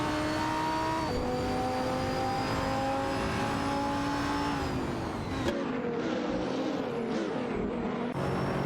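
In a racing video game, a Renault Sport RS1 GT3 and a Ferrari 488 GT3 drone loudly with steady engine tones that shift pitch as gears change, then break into rougher, fluttering revs.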